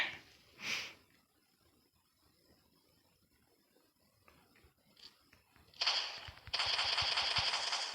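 Shotgun-like gunfire in They Are Coming Zombie Defense: a single sharp shot, then a quiet stretch with faint clicks, followed by a rapid burst of repeated heavy shots at the end.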